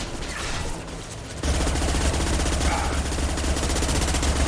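Rapid automatic gunfire in the 2010 PC action RPG Mass Effect 2 erupts after a brief quieter moment, a dense, loud, continuous burst of shots with a heavy low thud running under it.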